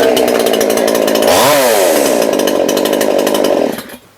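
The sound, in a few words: petrol chainsaw machine starting with one kick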